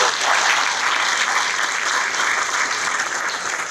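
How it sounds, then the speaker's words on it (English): Audience hand clapping at a ribbon-cutting ceremony for Father Bill's & MainSpring, dense continuous applause that stays steady and close and tapers slightly toward the end. "Give that a hand clap."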